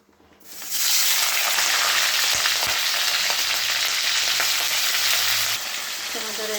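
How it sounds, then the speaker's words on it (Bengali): Prawns tipped into hot oil, the sizzle bursting up loud and close within a second and holding as a dense roar, then easing slightly near the end. "তেল গরম হয়ে গেছে। চিংড়ি মাছগুলো এবার দিয়ে দিই।"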